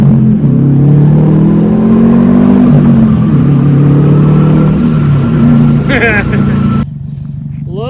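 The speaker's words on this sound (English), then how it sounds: "I've never had that real, true Subaru Rumble before. Here, listen to it. It's the 3rd gear. First through 3rd." A Subaru WRX STI with a BOSO exhaust rumbles loudly up close, its deep engine note rising and falling as it accelerates from first through third gear, with speech over the engine.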